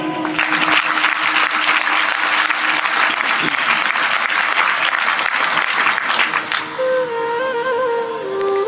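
Devotional satsang congregation clapping together in a loud, sustained burst for several seconds, a steady musical drone beneath, before the clapping stops and a melodic tone carries on alone.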